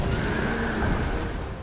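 A skeletal chariot horse in Dark Souls 2 lets out one loud, drawn-out neigh close by, over rumbling game noise and with no talk.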